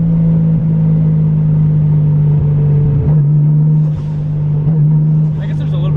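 Car with a 1JZ engine on its first drive, a loud steady low engine drone and rumble throughout, with a voice speaking over it.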